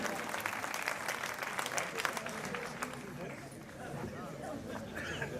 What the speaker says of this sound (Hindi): पूरा सदन ताली बजा दे